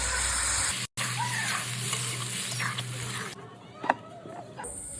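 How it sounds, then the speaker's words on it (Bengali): Water goes into a pan of frying potato and pointed gourd curry, a steady close sizzle with stirring that shifts and hisses anew partway through, with small clinks of a utensil. "এবার দিয়ে দিচ্ছি জল।"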